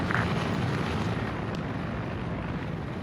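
A video game MI-24 helicopter gives a steady, dense rotor and engine rumble, loud and unchanging throughout.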